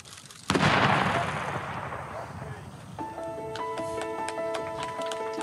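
A ceremonial gun salute at a royal tour event: one loud, sharp blast and its long, booming echo that rolls away. Tonal sustained notes, like music or a band, then come in underneath.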